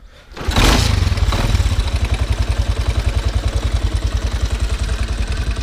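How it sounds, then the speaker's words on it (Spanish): A small motorcycle is kick-started with a sharp burst and then settles into a loud, close, steady idle with a rapid even putter throughout. "motorcito, vamos a dar una patada"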